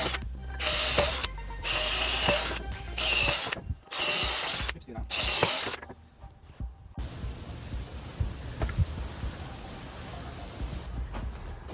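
A power drill countersinks pre-drilled screw holes in timber for a firewood-storage bench seat, giving loud bursts of whirring broken by short pauses for about six seconds, then quieter workshop handling noise.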